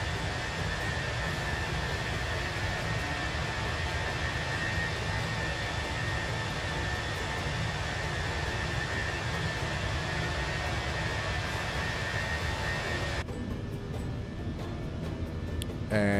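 Airliner jet engines roar at takeoff thrust in a flight simulator game, a dense, steady broadband rumble and whine that runs continuously before cutting to a quieter hum near the end.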